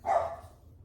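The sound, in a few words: dogs barking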